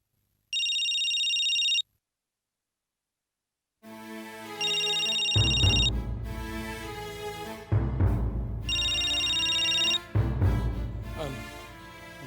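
A telephone rings in a home with repeated high electronic trills, first alone after a gap of silence and then over swelling dramatic music.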